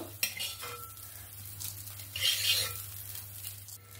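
A metal utensil scrapes and scoops fried Gobindobhog rice out of a wok, faint clinks and scratches against the pan over a low steady hum, close and quiet.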